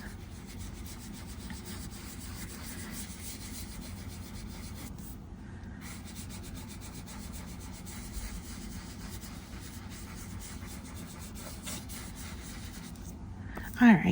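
A baby wipe rubbing Gelatos colour over a surface gives a steady, soft scrubbing swish that goes on almost without a break, close and moderate in level, with a brief louder knock right at the end.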